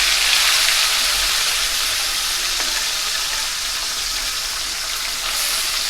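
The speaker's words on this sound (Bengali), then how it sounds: "তো বন্ধুরা আমাদের তেল গরম হয়ে গেছে, এবার আমি তেলের মাছগুলোকে ভাজার জন্য দিয়ে দিলাম।" Chapila fish frying in hot oil, a loud, close, steady crackling sizzle that holds evenly throughout.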